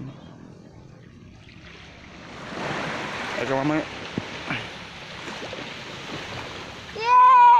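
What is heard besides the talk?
ocean waves at a beach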